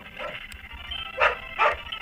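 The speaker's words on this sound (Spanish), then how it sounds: "Hostia, el perro, ¿eh? No sé qué lo espantó." A dog barks twice in quick succession, moderately loud and close, inside a Pokémon Quetzal game session, with no talk over the barks.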